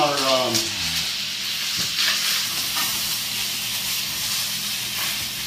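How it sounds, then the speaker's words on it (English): Shallots frying in olive oil with salt and pepper in a pan for coq au vin, giving a steady close sizzle and hiss that holds evenly throughout, with a brief low tone at the start. "We're going to let those braise a little bit"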